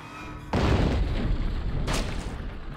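In the video game GUN, a sniper rifle fires with one sudden loud boom that rolls into a long, noisy rumbling tail, with no talk over it.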